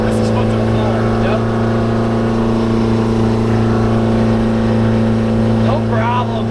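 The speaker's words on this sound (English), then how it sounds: "This is foot to the floor." A 1949 Ford F7 truck fitted with a swapped-in Detroit Diesel engine runs with the pedal floored, a loud, sustained steady drone with a strong low hum throughout, while people talk over it.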